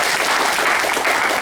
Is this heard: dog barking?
no